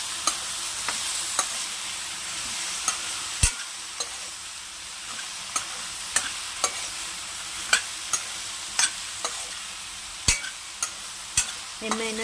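Okra sizzles steadily in a pan while a spatula stirs it, tapping the pan in sharp, fairly regular knocks over a continuous low frying hiss.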